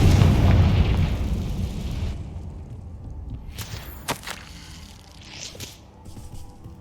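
A Confringo blasting-spell explosion in Hogwarts Legacy opens with a loud, rumbling burst that fades over a couple of seconds, followed by a few lighter thuds and footsteps.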